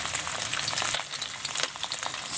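Fish deep-frying in hot oil for a second round, a steady dense sizzle with crackling pops that stays fairly even and close throughout.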